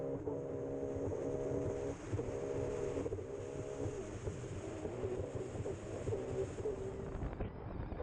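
A P1 AquaX personal watercraft races on the open sea off Agon-Coutainville, its engine droning with a steady whine from on board, overlaid by constant rushing wind buffeting the microphone.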